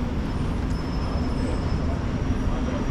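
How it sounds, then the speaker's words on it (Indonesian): A Glasgow subway (MRT) train near St Enoch Square, heard as a steady, loud low rumble that fills the whole stretch without a break. "subway, MRT kayaknya."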